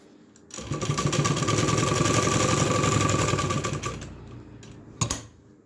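Sewing machine running steadily as it stitches the top seam of a fabric button placket, a fast continuous mechanical whir lasting a few seconds, then stopping, followed by a brief clack.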